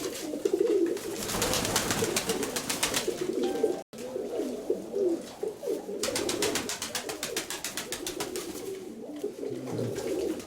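Ornamental fancy pigeons in a loft cooing in soft repeated low calls, with broadband rustling and scuffling around them throughout.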